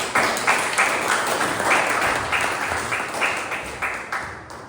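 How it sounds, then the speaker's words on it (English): A crowd at a Toastmasters club meeting applauds steadily for several seconds, a dense wash of many hands clapping at once with slight swells in intensity. "please give a round of applause"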